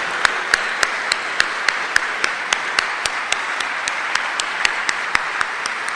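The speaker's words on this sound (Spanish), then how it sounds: "¿No le parece que se merece un aplauso el que hace todo esto en debilidad?" Applause from a church congregation during a sermon, with a few sharp, distinct handclaps standing out at an even rhythm over a softer wash of clapping that lasts several seconds.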